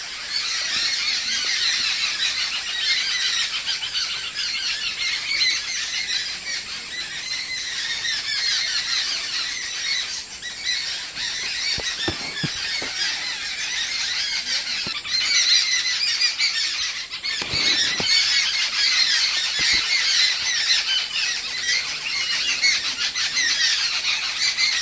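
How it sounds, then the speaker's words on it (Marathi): Birds in a Konkan village squawk and squeal in continuous alarm calls, a dense, steady chorus that carries on for the whole stretch with a few sharper cries breaking through. "पाखरं एकमेकांना सावध करत असतात की बाबा काहीतरी धोका आहे"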